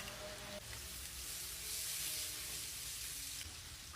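Garlic and onion sautéing in oil previously used for frying, a constant loud hiss and crackle close to the pan, unbroken throughout.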